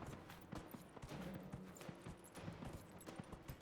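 Hooves clip-clop at a steady gallop during a horse race in the video game Dragon Age: Inquisition, a continuous rhythmic thudding heard alone at moderate loudness.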